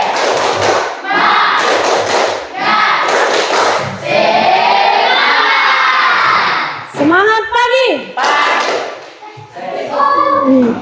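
A classroom of Indonesian schoolchildren doing a rhythmic morning clap chant, loud bursts of clapping and thumps mixed with children's shouting voices chanting along.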